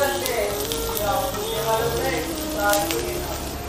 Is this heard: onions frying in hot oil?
yes